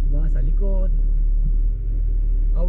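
Manual car idling with its engine held steady while the driver works the clutch, a low continuous rumble close by, with someone talking over it.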